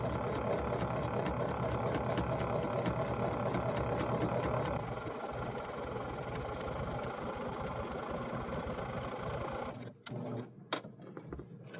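A sewing machine back stitching fabric for scrappy holiday towels hums steadily in a long continuous run, then slows into a few short stuttering bursts before stopping, close and even.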